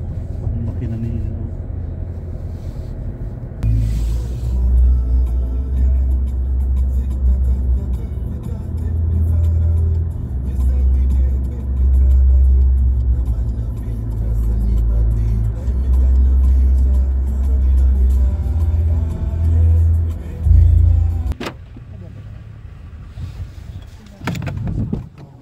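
A car engine hums low and steady while driving at night, rising and falling with speed, under ongoing conversation between people inside.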